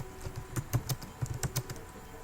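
Keys tapped on a computer keyboard at close range while entering Python commands, a quick irregular run of about a dozen clicks with a low hum underneath and no voices.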